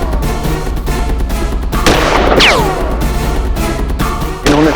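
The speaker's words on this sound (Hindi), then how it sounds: "इन्होंने सर्वप्रथम बंसल जी पर गोली चलाई" Loud, reverberant blasts of gunfire crack over a dense, rumbling background, with a sweeping whine partway through.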